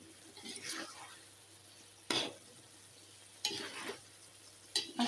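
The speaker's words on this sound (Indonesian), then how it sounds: "kita aduk-aduk dulu sebentar biar ini buncisnya layu pemirsa" Green beans stir-fried in a pan until just wilted, with a soft steady sizzle broken by three or four sharp, close scrapes of a utensil stirring against the pan.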